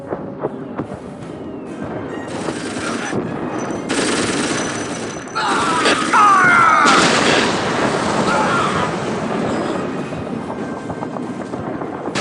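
Battle sounds from the Dawn of War Winter Assault strategy game: continuous machine-gun rattle and booming artillery fire build up, with voice lines heard over the din.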